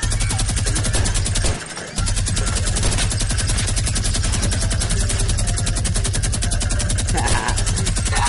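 Rapid automatic gunfire from a shooter video game, a continuous rattling stream of shots that briefly cuts out and then resumes, loud and close with no talk over it.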